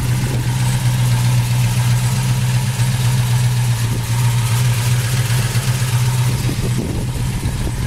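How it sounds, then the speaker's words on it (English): Engine of a 1968 Chevrolet Camaro SS with a 396 V8, headers and an Excel supercoil, idling steadily and loudly at close range with a deep constant rumble and no talk. "It's a 396 engine."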